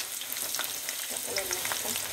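Onions sizzle in a pan for a shortcut khichuri breakfast, a quiet steady frying hiss with light crackles throughout.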